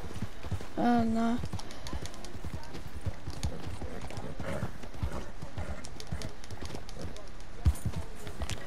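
Horse hooves clip-clop steadily in Red Dead Redemption 2, a close rhythmic patter running under a player's chatter, with a brief whinny near the start.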